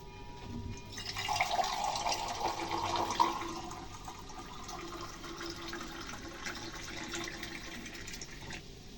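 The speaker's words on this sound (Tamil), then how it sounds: "உங்களுக்கு எவ்வளோ தண்ணி வேணுமோ அவ்வளோ தண்ணி ஊற்றிக்கலாம்." Water splashes and pours into a pot of sambar during home cooking, a faint burst of liquid falling for a couple of seconds, then a quiet low hiss of the kitchen.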